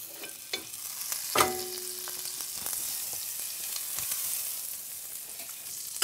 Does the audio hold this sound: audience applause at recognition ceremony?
no